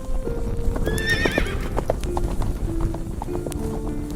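Sound effect for a story: a horse's hooves clip-clop in a steady gallop while the horse lets out a shrill, wavering neigh near the start. The gallop continues under faint background noise.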